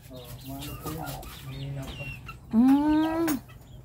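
A hen brooding her chicks gives soft low clucks, then a louder drawn-out call near the end, heard close with a person talking nearby.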